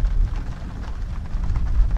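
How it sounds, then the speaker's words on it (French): Steady rain beginning to fall in a fictional outdoor scene, a dense continuous patter with low rumbling, fairly loud and even throughout, with no voices. "Alors que l'inspecteur porte la tasse à ses lèvres, la pluie se met à tomber."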